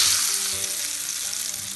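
Mustard seeds, ginger and garlic sizzle hard in hot oil for a lime pickle, a loud, dense, continuous crackle with no pause.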